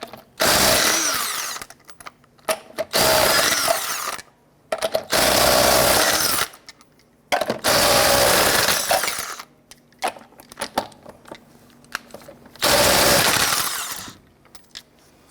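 Bursts of an impact wrench or power ratchet with a 19mm socket loosen lug nuts on a 1999-2004 Jeep Grand Cherokee 4.7L V8, several loud whirring runs of a few seconds each separated by pauses and light clanks.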